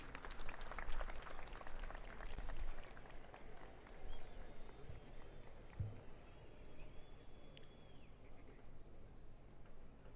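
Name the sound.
applause for His Excellency at ceremony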